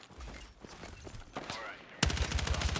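Gunfire in the Battlefield 6 battle royale, first scattered shots and movement under quiet talk, then a sudden loud burst of rapid automatic fire that keeps going to the end.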